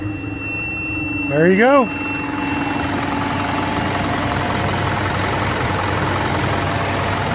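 Diesel engine of an Isuzu NPR/NRR truck cranking briefly, then catching and settling into a steady, low rumbling idle after its fuel system is primed; someone speaks briefly close by.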